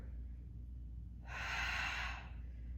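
A sharp forceful exhale during a Pilates exercise, one breathy burst lasting under a second, close and alone over a low steady background hum.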